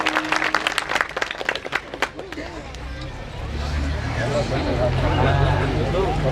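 Audience at a Gujarati folk music evening applauding a folk singer, a burst of close, dense clapping that fades after a few seconds into crowd murmur and background rumble.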